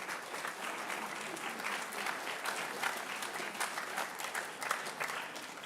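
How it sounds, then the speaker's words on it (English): Steady, sustained applause from an audience at a high school academic awards ceremony as a student comes up to receive an award, dense clapping that continues evenly throughout without speech. "Let's give her a round of applause."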